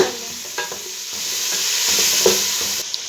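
Sliced tomatoes stirred into a pan of frying okra and meat curry, with soft scraping spoon strokes over a gentle sizzle, close and short.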